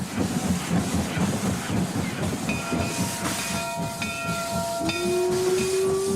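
A steam locomotive hisses steadily and loudly up close, with rhythmic chuffing beneath and a sustained steam whistle rising in near the end.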